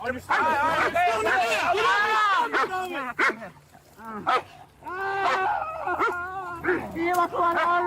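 A police dog barks, yips and whimpers in rapid, excited bursts close by, mixed with shouting voices throughout a tense struggle.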